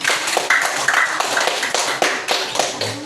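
Scattered, uneven clapping from a small group of participants in a training session, individual sharp hand claps tapping irregularly and fairly close for about three seconds.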